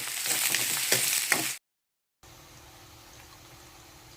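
Curry leaves, onion and green chillies crackle and sizzle loudly in hot oil for about a second and a half, then cut to silence, followed by a quieter, steady frying hiss.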